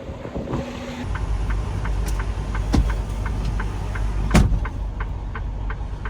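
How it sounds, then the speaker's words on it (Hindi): A truck engine runs steadily with a loud low rumble throughout, close by, with a few sharp clicks and knocks over the top. "ट्रक बंद कर देते हैं, ट्रक की आवाज बहुत आ रही होगी बीच में।"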